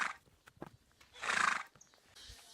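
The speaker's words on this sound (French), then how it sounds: "des chevaux." Horses in the Brazilian countryside neigh in a loud, close whinny, with scattered hoof clops and snorts before and after.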